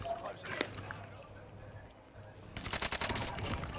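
Enemy gunfire in a video game, a sudden dense burst of rapid automatic shots that starts partway through and keeps rattling, loud and close, with a voice talking over earlier scattered sounds.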